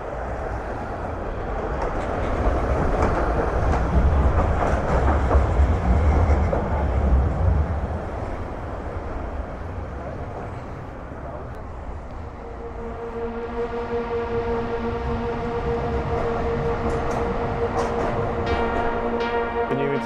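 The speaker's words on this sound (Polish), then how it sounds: "linia 24 właśnie jedzie tą trasą najstarszej linii tramwajowej, normalnotorowej w Krakowie" A tram on line 24 rumbles along Kraków's oldest standard-gauge tram route with rolling, rattling noise, swelling then easing, followed by a steady tonal electric whine as it moves on.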